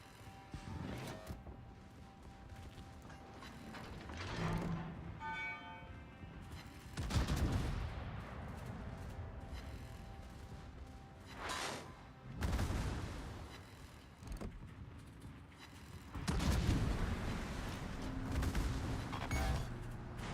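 Main battery salvos from the cruiser Helena in World of Warships, a series of heavy booming gunfire bursts at irregular intervals over constant battle ambience, loud and close.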